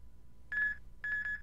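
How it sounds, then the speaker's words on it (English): Electronic beeps from the video game Killer7: a short steady tone, a pause, then a longer tone and the start of another, clean and moderately quiet with no talk. "I also tested the game. It's like these beeps."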